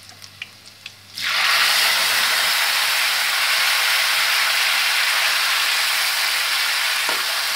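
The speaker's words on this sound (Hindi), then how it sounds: "अब हम इसमें डाल देंगे टमाटर," Tomatoes hit a hot pan with green chillies for methi pulao, setting off a sudden loud, close hiss that holds steady to the end after a second or so of quiet.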